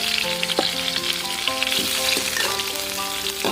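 Pork stir-fried with fish sauce in a pan sizzles steadily and close up, with scraping stirs and a few tonal clinks from the utensil against the pan.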